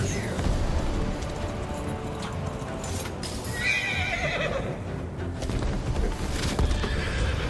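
A horse in the game Where Winds Meet neighs loudly, with steady hoof clip-clop running beneath it through a busy, continuous soundscape with faint combat noise.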